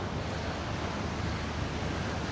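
Steady rushing roar of ocean surf on the beach at An Thuong, Da Nang, Vietnam, continuous and fairly loud, with some wind buffeting the microphone and no voices.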